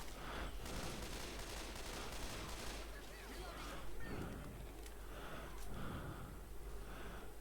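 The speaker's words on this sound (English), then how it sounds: "It's a noisy gun." Gunfire from a noisy gun in the zombie shooter Left 4 Dead 2 sounds as rapid bursts of shots over a dense, roaring game din that runs throughout.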